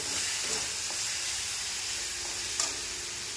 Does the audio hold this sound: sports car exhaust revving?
no